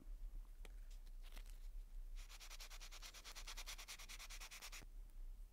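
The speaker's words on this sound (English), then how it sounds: "I'm going to use my sanding block and I'm just going to run it over it a little bit" A sanding block rubs rapidly back and forth over a sheet metal earring in a quick, even series of gritty strokes, preceded by a few isolated scrapes, close and fairly quiet.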